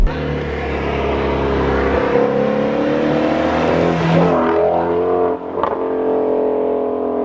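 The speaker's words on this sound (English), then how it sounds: "I can literally just flip the throttle, there we go, rev match, and just go right into the corners" A 2016 Shelby GT350 Mustang engine revs loudly and continuously through corners, its pitch climbing and dropping with throttle blips during rev-matched downshifts, close and dominant throughout.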